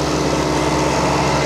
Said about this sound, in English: I nearly got mangled up in some sort of massive lawnmower.